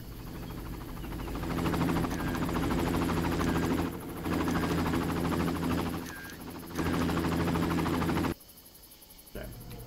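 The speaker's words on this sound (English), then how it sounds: "Wait, the helicopter's over that way?" A helicopter in the first Far Cry video game drones steadily with a constant whirring rotor hum that swells and dips slightly, then cuts out abruptly near the end, leaving a quieter background.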